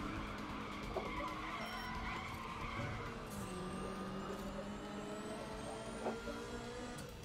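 A Peterbilt truck drifting in Euro Truck Simulator 2, its tires squealing and skidding in long wavering tones over a steady engine rumble, fairly faint throughout.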